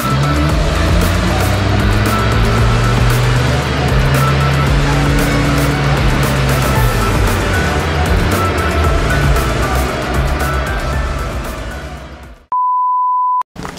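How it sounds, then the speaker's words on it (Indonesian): A diesel car engine runs hard on a dyno during a fuel comparison, a loud, constant roar that holds for about twelve seconds before cutting off, followed by a steady electronic beep. "Karena biasanya pada suatu dyno run seperti ini, semakin lama performa mesinnya semakin menurun sedikit."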